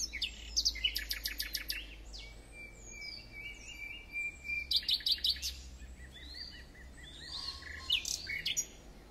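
Dawn chorus birdsong: several birds trade bright chirps and rapid repeated trills, fairly distant and soft over a low steady outdoor hum, with no voices.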